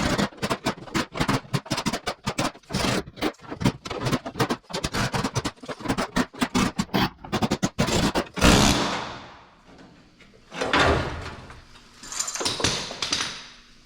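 Rusted metal being knocked out of a car wheel arch, a rapid series of loud, close hammering bangs and clanks for several seconds, then a few scraping, rattling bursts of metal debris, no talk.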